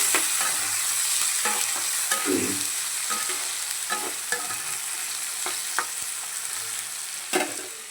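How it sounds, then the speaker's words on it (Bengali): Onion and cumin seeds frying in oil in a wok, a steady close sizzle broken by occasional scraping stirs of the spatula, with no voice. "এখানে কড়াইয়ে দেখো পেঁয়াজ দিয়ে দিয়েছি তেলের মধ্যে একটু জিরে ফোড়ন দিয়ে"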